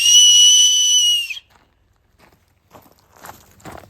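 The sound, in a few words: whistling through an acorn cap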